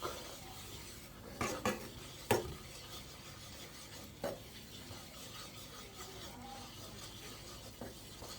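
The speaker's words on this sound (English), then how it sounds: "You kind of want to keep stirring this." A spoon stirs and scrapes spinach dip in a pan, giving soft rubbing sounds broken by several sharp metallic clinks against the pan, close and fairly quiet, with no voices.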